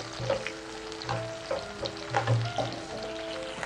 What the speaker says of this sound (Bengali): তারপর দিয়ে দিলাম যে পেঁয়াজগুলো কুচিয়ে রেখেছিলাম, সেই পেঁয়াজগুলো খুব ভালো করে নাড়তে থাকলাম।